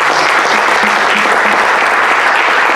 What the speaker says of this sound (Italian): Un ringraziamento e un applauso a Giulia